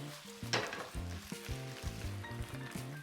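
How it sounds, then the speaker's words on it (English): Peppers and onions sizzle steadily in a hot pan for Chinese black pepper beef, a close, continuous frying hiss broken by soft stirring clatter. "just to brown that off and get a little bit of colour on the peppers"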